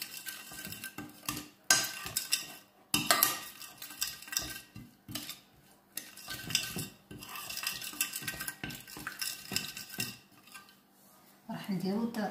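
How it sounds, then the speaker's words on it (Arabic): A spoon clinks and scrapes against a bowl while chicken marinade with vegetable oil is mixed, giving quiet, irregular knocks and stirring sounds, with a brief voice near the end. "نخلط مليح التتبيله هذه"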